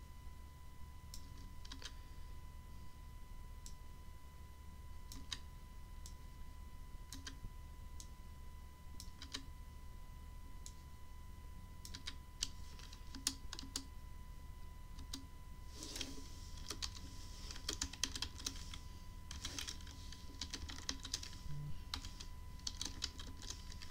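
Soft keystrokes on a computer keyboard tap along steadily and quietly, then quicken into a denser run of typing near the end, with a faint steady hum behind and no talking.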